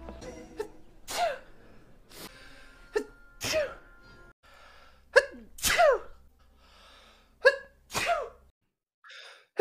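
A string of sharp human sneezes, about six, bursts out one after another at irregular intervals, loud and close, with quieter breaths and gasps between them.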